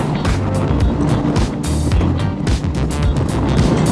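A 1991 Honda Goldwing GL1500 motorcycle on the road, with steady engine drone mixed with heavy wind rush and road noise, loud and close throughout.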